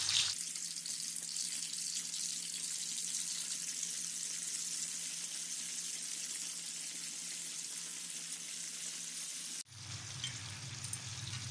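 Chicken pieces frying in hot oil in a karahi over high heat, a steady dense sizzle running loud and close for most of the stretch, then shifting abruptly to a harsher, more agitated crackle near the end.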